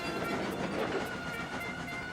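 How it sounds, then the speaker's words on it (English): Trains working at a busy station, a low steady rumble of rolling engines and wagons with faint rhythmic clatter, heard from a distance and fairly quiet throughout with no voices. "Knapford Station was busy with the sound of working trains."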